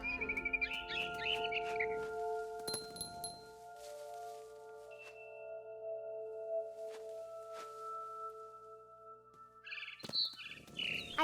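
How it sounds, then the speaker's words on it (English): A barn swallow twitters in What Remains of Edith Finch, with quick bright chirp bursts at the start and end around faint clinks, over a quiet, sparse background. "Then I heard chirping outside my window. It was a barn swallow going back to her nest."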